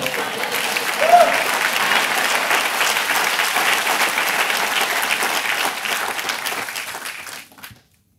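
Dense, sustained clapping from a church congregation at a Sunday service at Bethel AG Church, loud and steady for about seven seconds before cutting off abruptly.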